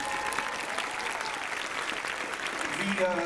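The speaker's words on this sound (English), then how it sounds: "Everybody, big round of applause for Hex" Audience at the Megaplex 2021 closing ceremonies applauding steadily for several seconds, a dense continuous patter of clapping with a voice briefly audible near the end.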